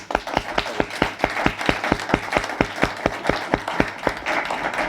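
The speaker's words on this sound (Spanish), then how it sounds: "pido un aplauso para nuestro conferenciante" An audience applauds a lecturer after a talk, with sharp rhythmic synchronized clapping at a steady beat that blends into a denser general applause toward the end.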